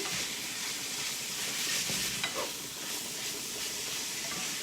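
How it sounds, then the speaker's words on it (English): Slaw mixture for egg roll soup being stirred in a hot, steaming pot, a soft continuous sizzle and hiss with faint scraping, steady and close throughout. "go ahead and dump your couple cups of slaw mixture on the top. And give this a good stir."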